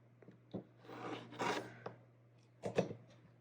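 Scrap fabric for a junk journal being trimmed along a ruler, with short scraping and rasping cuts in a few bursts over a low background hum, close and fairly quiet.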